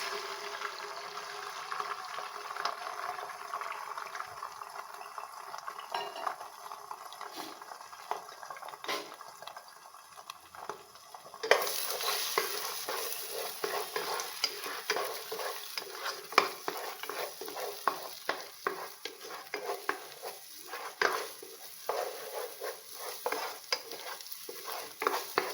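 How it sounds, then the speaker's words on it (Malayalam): Eggs scramble and fry in ghee in a pan, with constant close scraping stirs over a soft sizzle that grows brighter and louder midway and keeps a busy, uneven rhythm to the end. "നമ്മൾ മുട്ട പൊരിച്ചത് ചിക്കി പൊരിച്ചത് ശരിയായിട്ടുണ്ട്"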